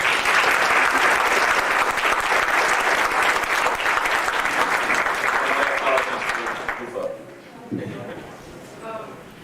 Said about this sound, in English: If I can get a round of applause for these candidates